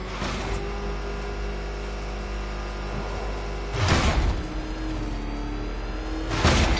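The Batmobile in Batman Arkham Knight holds a steady engine drone, broken by two loud whooshing surges of revving and movement a few seconds apart.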